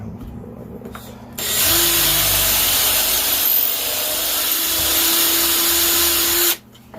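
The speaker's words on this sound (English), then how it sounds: "See, I just drilled a hole there, so I can drill out the inside." A power drill whirs loudly and steadily for about five seconds, drilling a hole in wood, starting abruptly and cutting off sharply, close by.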